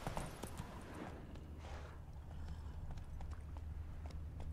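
Roach the horse runs in The Witcher 3 with a fast, continuous clip-clop of hooves over a low rumble, steady and fairly close throughout.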